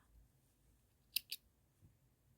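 Scissors snip crochet yarn twice in quick succession, two sharp close clicks in quiet surroundings.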